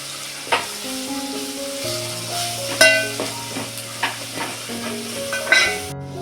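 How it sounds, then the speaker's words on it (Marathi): Oil sizzles steadily in a pan, broken by a few sharp crackles and spatters as spices hit the heat while tempering horse gram sambar; no voices. "हे बघा आता मी सांबारा फोडणीला देते"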